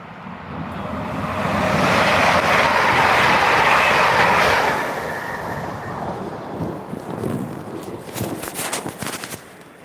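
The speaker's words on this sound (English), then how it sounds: "so we've got a fast train" A fast train rushes through Doncaster railway station, a loud swelling roar that peaks within seconds and then fades, followed by rattling wagon clatter and close handling knocks near the microphone.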